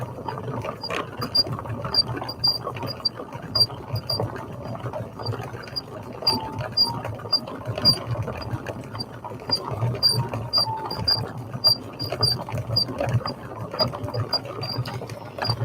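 A yarn winder spins yarn with a steady, rapid mechanical whirr and a fine repeating tick, constant and fairly close throughout.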